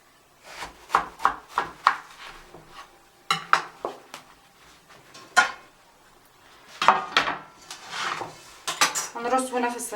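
Food is arranged in a metal baking tray, with sharp clinks and clatters of metal and utensils in irregular bursts, some quick runs of taps and scrapes between quieter pauses.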